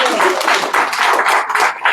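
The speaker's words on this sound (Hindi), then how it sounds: "ताली दोनों के लिए।" An audience claps together at an evening religious program in Zoetermeer, Holland: dense, loud applause fills the hall for a couple of seconds.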